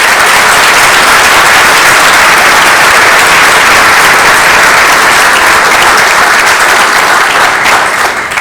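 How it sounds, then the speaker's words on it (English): Loud, sustained applause from the audience at a city council regular meeting, a dense wall of clapping that holds steady throughout and only starts thinning near the end. "Please give Brad a round of applause."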